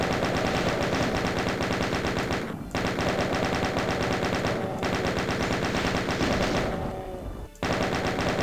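A plasma gun fires in the DOOM video game as a loud, continuous stream of rapid, evenly spaced shots, breaking off in a few short pauses before resuming.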